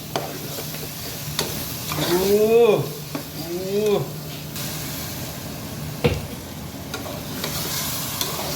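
Mutton sizzling and being stirred through spice masala in a pan for dhaba-style saag meat: a steady frying hiss with scraping strokes and a couple of squeaky tonal sweeps midway, then a sharp knock.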